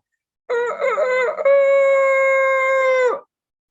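A person mimics a rooster's crow, a loud, drawn-out warbling call held for a few seconds, alone with no other sound.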